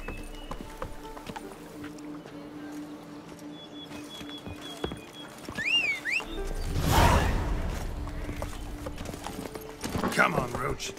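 Roach the horse gallops in The Witcher 3 with steady clip-clop hoofbeats, loud and close. A snort or whinny rises midway, and spoken voices and ambient game sounds run underneath.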